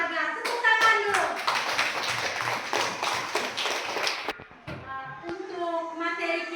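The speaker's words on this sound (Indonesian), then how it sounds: "Tepuk tangan dulu." Schoolchildren in a classroom clap their hands together in quick, fairly loud bursts for about four seconds. The clapping stops abruptly and a voice speaks afterward.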